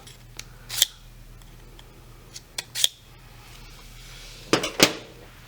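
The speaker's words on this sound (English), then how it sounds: "to sharpen the knives, you just hold it like this and then run the knife through it" A knife is pulled through a handheld knife sharpener in three short, sharp scraping passes spaced a couple of seconds apart, close and crisp over a low steady hum.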